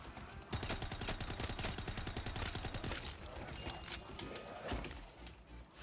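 Dense rapid gunfire from a first-person zombie shooter set in Minecraft, a fast automatic burst that rattles on for several seconds before thinning into scattered shots and clatter.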